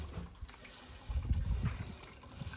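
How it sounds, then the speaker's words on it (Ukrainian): Grape must juice from fermented grapes trickling out of a wine press, a faint steady dribble with low sloshing, close and quiet with no talk. "Там ще трошки тече. Сік."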